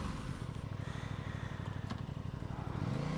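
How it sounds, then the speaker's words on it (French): An Aprilia Tuono 660 motorcycle pulls away on the road, its engine giving a steady low throbbing hum that swells slightly toward the end, with no talk over it. "alors on démarre sur cette nouvelle Aprilia"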